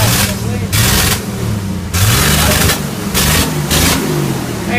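A 1976 AMC Pacer with a newly fixed gas system and exhaust runs loud and close, its engine surging through repeated revs over a steady running note, while people talk excitedly over it.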